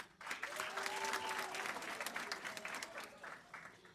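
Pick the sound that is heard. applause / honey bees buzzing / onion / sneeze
applause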